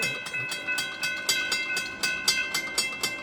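A moving train rolls past a lowered crossing gate arm near St. Augustine, heard up close as loud rhythmic clickety-clack of wheels over rail joints repeating steadily, with a tonal rumble underneath.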